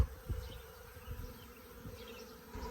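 A swarm of honeybees hums faintly but steadily around a farm hive, a close, continuous buzzing with no voices.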